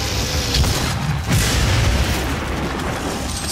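Grenade explosion in the video game Doom on Mars, a loud booming blast with sustained rumbling debris that fills the whole stretch without any talk.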